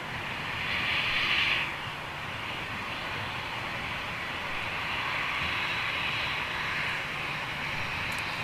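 A Lufthansa airliner passes overhead, a steady broad engine roar that swells briefly near the start and then holds as a constant distant rumble, with no talking.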